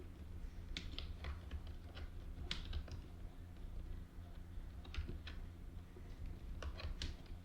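Fingers type a keyword on a computer keyboard, a steady run of quick, irregular key clicks with short pauses, heard close over a constant low room hum.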